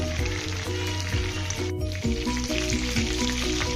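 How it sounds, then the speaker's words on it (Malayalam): Fish fries in oil in a pan for a garlic pepper fish recipe, a steady close sizzle with dense crackling pops continuing throughout, no voices. "ഇതുപോലെ ബാക്കി മീനും കൂടി നമുക്കൊന്ന് ഫ്രൈ ചെയ്തെടുക്കാം"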